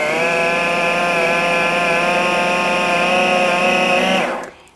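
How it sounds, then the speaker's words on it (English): A kitchen blender purees lentil curry into baby food, a loud, steady motorized whir running continuously for several seconds before winding down abruptly at the end. "So I'm just gonna go ahead, and this will blend it up for me."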